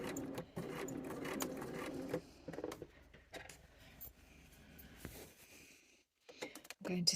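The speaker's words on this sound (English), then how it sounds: "I'm going to effectively just start stitching in my extended bit of placket" Home sewing machine stitching an extended placket onto a shirt sleeve, quiet intermittent bursts of rapid needle chatter separated by pauses and small handling clicks.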